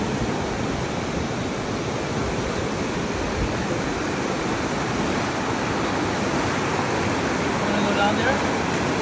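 Loud, steady rush of creek water flowing near a camp in the Sierra, a dense continuous roar that stays even and close throughout with no breaks.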